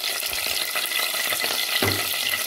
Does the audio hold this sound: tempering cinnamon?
yes